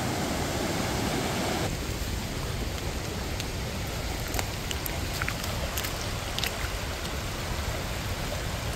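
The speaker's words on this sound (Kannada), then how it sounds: "ಸಣ್ಣ ವಾಟರ್ ಸ್ಟ್ರೀಮ್" A small water stream flows over rocks just upstream of a waterfall, a steady soft rushing that continues unbroken throughout.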